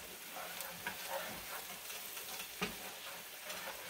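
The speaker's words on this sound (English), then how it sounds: "get your spices, that your spices don't burn. You just want them to soften up. And cook them flavors in." Spices fry in a pot for Congo beans, giving a steady close sizzle with a few soft stirring clicks and scrapes throughout, and no talking.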